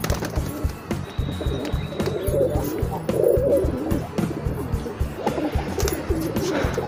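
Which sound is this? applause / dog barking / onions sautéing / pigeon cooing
pigeon cooing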